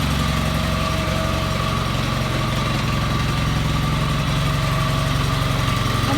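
A Honda HT 3813 lawn tractor engine idles in a loud, steady, unbroken drone with a constant low throb and mechanical vibration, no voices.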